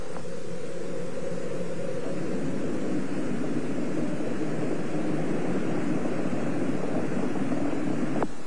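Space Shuttle Challenger's engines during its 1986 launch, a deep, continuous broadband roar with a rumbling low end. It stays strong and steady throughout, heard from a distance with wind buffeting the microphone and no voices.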